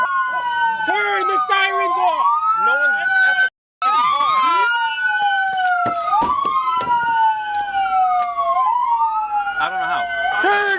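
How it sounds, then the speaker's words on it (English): A police car siren wails and yelps continuously and loudly up close during a high-speed police chase, with a brief cutout partway through and people talking over it. "Turn the sirens off!"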